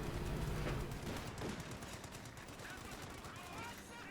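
M1919 machine guns firing in the Company of Heroes 2 strategy game, rapid continuous bursts mixed with battlefield explosions and combat noise, fairly faint overall, with some voice sounds in the mix.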